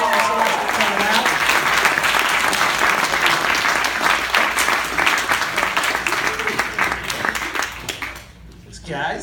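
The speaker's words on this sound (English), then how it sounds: "can we give a bit of a round of applause for our guests here" Warm audience applause for the cast and crew guests of April Fool's Day (1986) at a Los Angeles screening, a full crowd clapping steadily with voices mixed in, fading out near the end.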